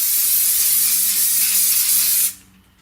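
A steady hiss of cooking oil spray from an aerosol can onto a sandwich maker lasts about two seconds, then cuts off abruptly, close and clear.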